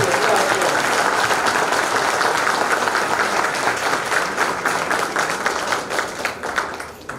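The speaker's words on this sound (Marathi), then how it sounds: "जरा एकदा उभा टाकून एकदा टाळ्या वाजवा" An audience at a 2022 Marathi awards ceremony applauds together for about seven seconds, a dense, steady wash of clapping that stays loud throughout and eases slightly at the very end.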